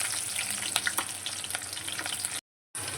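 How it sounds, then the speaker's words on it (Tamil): Onions and green chilies frying in hot oil for curry, a close, steady sizzle with small pops, cut by a brief silent gap near the end before the sizzle resumes. "வெங்காயம் தாளிச்சிக்கலாம்."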